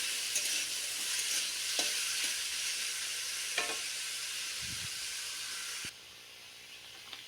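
Potatoes frying in oil in a pan, a steady broadband sizzle that runs throughout with occasional stirring clatters, then drops slightly quieter near the end.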